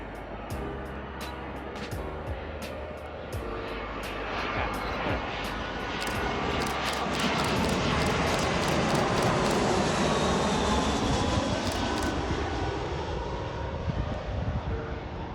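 An American Airlines airliner in American West heritage livery arrives at Sacramento airport, its jet engine roar building from a distant rumble to a loud, broad whoosh as it passes close, then slowly easing off.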